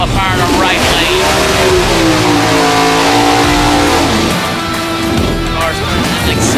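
Drag racing cars rev and accelerate hard at a quarter-mile race at the NMCA All Star Nationals, a loud, close engine roar rising and shifting in pitch, with an announcer talking over it.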